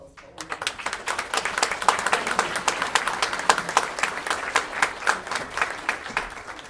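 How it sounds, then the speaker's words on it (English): An audience applauds graduates of a leadership class at a community event, with steady, moderately loud clapping of a modest crowd and individual claps audible throughout. "A round of applause for all of you."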